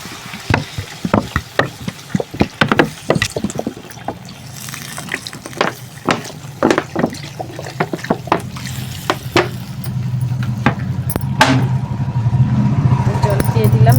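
Water splashes into a pan of cauliflower and potato curry on a home kitchen stove, followed by a steady, loud bubbling sizzle, with someone speaking between the sounds.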